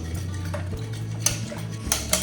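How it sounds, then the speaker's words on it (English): A Danish dough whisk works through sourdough in a bowl, giving steady close stirring with light metallic clinks and taps against the bowl. A low hum runs underneath the stirring, and no one speaks. "we're gonna take our Danish or Dutch whisk"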